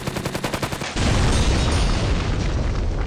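A video game explosion in Iron Wings on Xbox One: a rapid run of gunfire-like bursts gives way to a loud, sustained booming roar that fills the rest of the moment.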